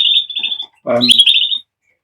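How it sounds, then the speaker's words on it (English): Bright, high chirping and whistling bird calls in two bursts, the second mixed with a lower rustling flutter, close and fairly loud, then silence. "it's upset a lot of the birds"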